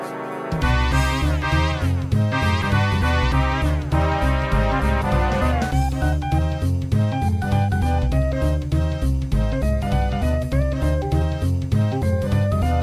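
Upbeat, jazzy Lava Fields level music from the SpongeBob SquarePants PS1 game, a steady full-band groove with bass line and bright melodic lines playing loud and continuous throughout, no talking.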